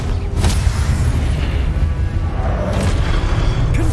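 Spell blasts from the Confringo fire charm in a Harry Potter video game, a dense booming roar of explosions running continuously with sharp bursts layered over a heavy low rumble throughout.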